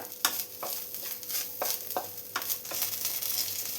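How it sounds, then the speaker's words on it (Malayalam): Grated coconut frying in a pan until browned, a steady close sizzle with scraping stirs at irregular intervals, no voices. "തേങ്ങയെല്ലാം ഒരു ബ്രൗൺ കളറായി വരുന്നവർ നന്നായി തന്നെ ഒന്ന് ഫ്രൈ ചെയ്തെടുക്കാം."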